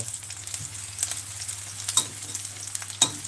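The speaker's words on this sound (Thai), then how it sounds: "อันนี้เราต้องผัดไปเรื่อย ๆ เลยนะคะ" Pork and chili paste stir-fried in a home kitchen pan, with a steady close sizzle, scraping stirs and clinks of the spatula against the pan, and no talking.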